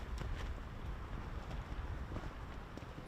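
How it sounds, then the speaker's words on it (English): Strong wind on a disc golf course at a college national championship, heard as a continuous low, buffeting rumble of gusts battering the microphone with no voices. "It looks windy and kind of very, very windy."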